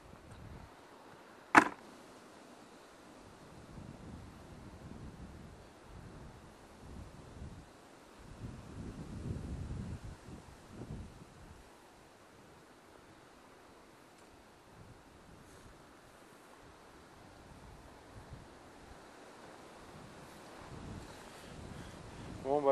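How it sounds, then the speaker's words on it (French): Storm-remnant wind buffets a microphone outdoors during magnet fishing, a faint low rumble of uneven gusts swelling and fading, with one sharp click early on. "Bon bah il y a un peu de vent quand même hein,"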